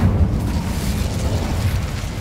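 Incendio fire spell cast in the Hogwarts Legacy video game, a loud continuous roaring burst of flame with heavy low rumble sustained throughout, no talking.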